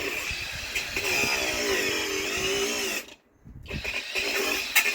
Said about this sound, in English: taking an angle grinder to a tyre bead